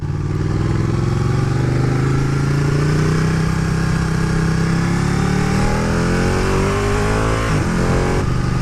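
A Ducati 1299 Panigale motorcycle engine runs close and loud, its rough, steady drone rising in pitch as the throttle opens and easing briefly near the end, with no voices over it.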